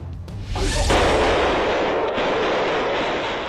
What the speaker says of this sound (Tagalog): Umalingaw-ngaw ang sunod-sunod na putok ng baril sa Dindaing District sa Bangkok, Thailand